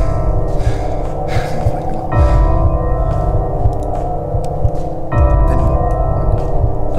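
In the Slender Sanatorium horror game, a creature snorts and breathes heavily in a looping, rhythmic pattern, loud and close over a droning ambient hum.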